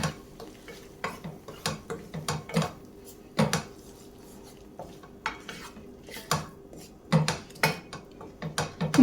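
A spoon scrapes and clinks against a cooking pot in irregular strokes as chicken curry with masala is stirred, close up with no talking.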